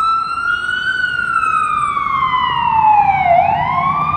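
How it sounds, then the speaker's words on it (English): Emergency vehicles passing by outside a CVS pharmacy, their loud wailing siren slowly rising and falling in pitch over steady road and engine rumble, close and with no talking. "we got some emergency vehicles passing by"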